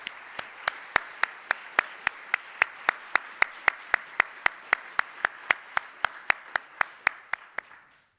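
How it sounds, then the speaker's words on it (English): About two dozen sharp claps in a steady, even rhythm, like a few hands clapping together rather than a crowd, at a conference, ending after roughly eight seconds. "I would like us all to give a round of applause to Horia and to thank him."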